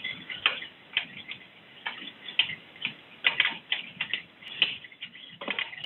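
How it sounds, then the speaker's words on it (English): A ratchet with a 10 mm socket works loose the oil pan bolts on a CVT transmission. It makes a steady run of sharp, close clicks in quick irregular bursts, with no voices. "to remove these 18 bolts, you will be needing 10 mm"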